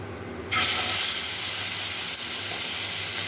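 Pieces of hilsa fish being lightly fried in hot oil, a loud steady sizzle bursting in after a quieter start and holding continuously close by.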